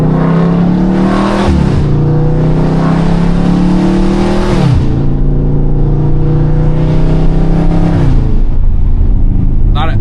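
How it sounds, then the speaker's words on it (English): A Dodge 392 Scat Pack with a loud exhaust revs up repeatedly, its engine pitch rising in three strong, close surges, each dropping off before the next pull. "Boy, loud exhaust, man."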